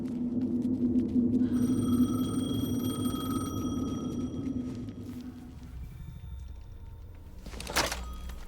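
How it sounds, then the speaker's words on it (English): A telephone rings with a sustained electronic tone in the video game Alan Wake 2, over a low droning ambience, then fades out, followed by a brief sharp noise near the end. "The phone again."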